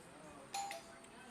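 A single short electronic doorbell chime rings briefly over faint background noise.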